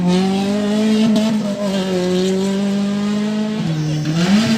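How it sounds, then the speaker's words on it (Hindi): Off-road racing cars at the Bilgaro race roar loudly and continuously, one engine note holding steady then dipping and climbing again with revving, close and dominant with no talk over it. "क्या पट पट पट पट पट पट साउंड दे रहा है और खतरनाक लेवल का साउंड है गाड़ी लोग का"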